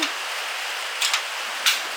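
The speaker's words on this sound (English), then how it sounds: "it's literally raining so hard" Heavy rain pours down on a flooding backyard and vegetable garden on the Sunshine Coast, a steady dense hiss with a few brief louder splashes and no voices.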